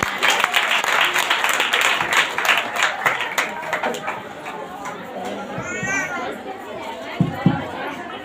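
A crowd at a church healing service claps and cheers loudly and continuously, with chatter mixed in and a few distinct claps standing out near the end.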